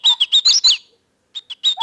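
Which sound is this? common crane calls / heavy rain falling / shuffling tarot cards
common crane calls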